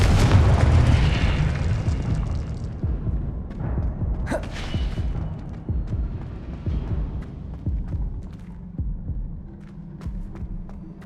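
A Confringo blasting spell explodes in the Hogwarts Legacy video game, giving loud, deep booming rumbles that are heaviest at the start and then settle into a fading, throbbing roar.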